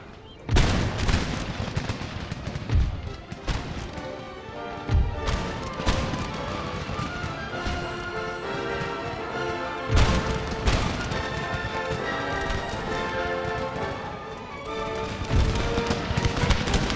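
Rifle volleys and artillery fire in the game Empire: Total War, with dense crackling musket fire and several heavier booming shots over continuous orchestral game music.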